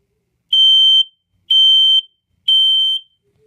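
Kidde P9040 smoke alarm giving three loud, shrill beeps close by, each about half a second long and separated by equal gaps of silence.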